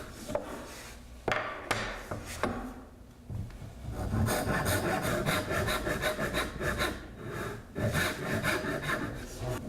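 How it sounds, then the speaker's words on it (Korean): A hand saw rasps back and forth through wood while cutting a traditional Korean joinery joint, a few separate strokes at first, then a steady run of rhythmic cutting strokes, close by. "가공이 편하도록 나머지 떨어져 나갈 부분에 톱질을 몇 번 더 합니다."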